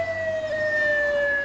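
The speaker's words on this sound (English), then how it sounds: "It's common for people to see ambulances and hear their sirens on the streets" Wailing ambulance siren on a city street, a loud sustained tone sliding slowly in pitch over a background of road traffic.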